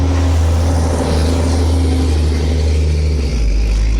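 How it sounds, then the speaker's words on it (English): Loud trucks rumble past at night, a heavy low engine drone with a steady hum that shifts in pitch as one vehicle passes close by, filling the whole moment without speech. "do loud trucks ride by you at almost 1 o'clock in the morning when you're talking and making a video?"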